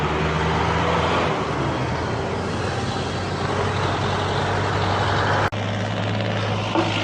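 Cars and trucks pass close by on a road near the Laguna-Quezon boundary, a loud continuous engine drone and road roar with a brief sharp thump partway through.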